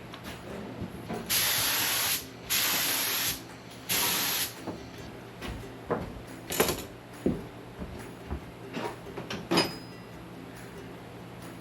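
Clearcoat sprayed onto a 1987 Jeep Wrangler during restoration: three long, loud hissing bursts of spray in steady rhythm, followed by scattered softer clicks, knocks and brief hisses in a quiet workshop.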